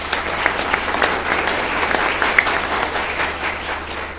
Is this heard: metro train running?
no